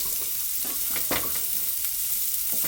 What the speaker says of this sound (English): you can hear those nicely sizzling away there